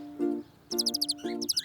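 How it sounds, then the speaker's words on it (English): Small birds chirp and trill in quick high bursts, fairly close and clear, with a low tonal hum underneath at the start. "Those are birds."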